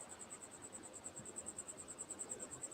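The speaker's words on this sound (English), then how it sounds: "why don't you go find that cricket and get rid of it?" A single cricket chirps indoors in fast regular pulses, a thin high trill repeating steadily throughout, faint and close against quiet room noise with no speech.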